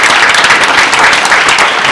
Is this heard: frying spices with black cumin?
no